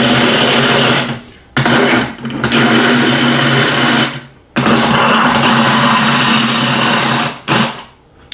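A drill-powered wrench runs in reverse in loud, sustained bursts of whirring motor noise, stopping and restarting several times with brief gaps between runs.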